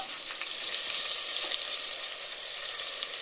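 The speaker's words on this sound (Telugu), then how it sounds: "ఇప్పుడైతే నేను అల్లం వెల్లుల్లి కొబ్బరి పేస్ట్ అయితే వేస్తున్నాను." Ginger, garlic and coconut paste fries in a pan of tomatoes and chillies while curry masala cooks, with a loud, steady, hissing sizzle that never lets up.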